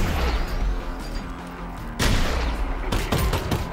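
Shotgun blasts in the VR game Half-Life: Alyx, several loud booming shots with crashing impacts, two strong reports about a second apart amid continuous gunfire and combat clatter.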